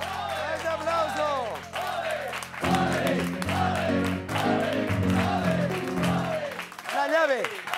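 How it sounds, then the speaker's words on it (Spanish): Audience applause and cheering at a live rock concert, clapping and shouts blended with loud voices and music throughout. "¡Ese aplauso!"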